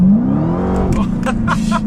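A 2015 Dodge Challenger Hellcat revs hard and loud up through the gears, its engine pitch climbing then dropping at a quick shift, with people speaking over the roar.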